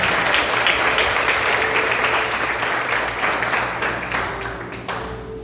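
A church congregation bursts into sustained applause during a sermon on the baptism in the Holy Spirit, a dense, steady wash of clapping that fades slightly toward the end.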